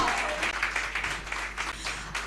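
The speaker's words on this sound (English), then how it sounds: "When you clap your hands and you shout, that is the fugodio that God wants to hear." A church congregation claps hands during a preaching service, a dense burst of rhythmic clapping and shouting that carries loudly through the hall.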